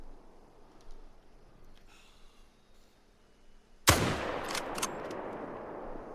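A rifle fires at a buck while hunting at Layton Lake in a video game, one loud close crack partway through after quiet ambience, followed by a ringing echo that decays over the next couple of seconds.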